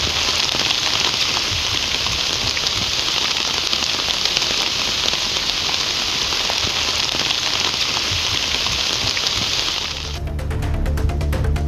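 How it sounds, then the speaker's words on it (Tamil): Steady heavy rain pours down over a town in Tamil Nadu, India, in a dense, hissing wash that stays constant and loud throughout, with a slight change in texture near the end. "பெரம்பலூர் நகர் மற்றும் சுற்றுவட்டார பகுதிகளில் கனமழை பெய்தது"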